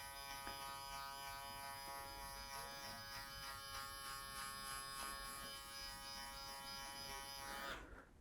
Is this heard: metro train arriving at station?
no